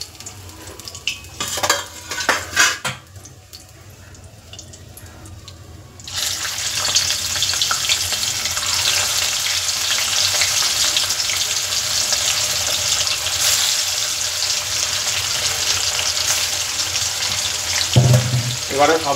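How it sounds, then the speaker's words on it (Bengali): Hilsa fish frying in a pan of hot oil, a steady loud sizzle that runs on after a few seconds of clatter and quiet, with brief speech near the end. "ইলিশ মাছ একটু কম ভাজলে টেস্ট হয়। মাছটা ভাজা হোক।"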